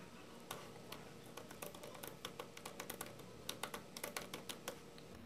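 Typing on a computer keyboard while editing a Scratch project: steady close key clicks in quick uneven runs, with a few louder taps, over low background hiss.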